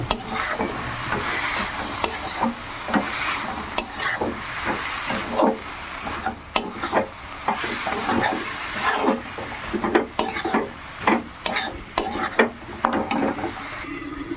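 Chickpea greens being stirred in a pan with a rice flour paste, ginger and garlic, giving a steady soft hiss of steam broken by repeated scraping strokes of the spoon, close and fairly loud.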